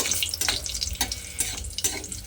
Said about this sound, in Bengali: কালো জিরে আর কাঁচা লঙ্কাটা দিয়ে আমি একটু তেলের মধ্যে ভাজা ভাজা মতো করে নেব